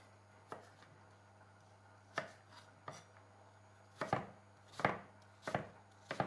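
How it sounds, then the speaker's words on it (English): Knife chopping apples on a cutting board while preparing weaning food for a baby: sharp, separate chops near the mic, two scattered early then a cluster of four or five quicker cuts toward the end, over a low steady hum. "So we're going to chop these into similar length."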